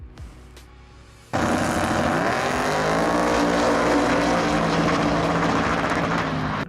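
After a quieter start, a car engine suddenly roars into hard acceleration, holding a loud, sustained rising revving note with no speech.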